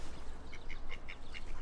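A mother duck with ducklings quacking, a run of about five short, fairly quiet quacks in quick succession over low background noise.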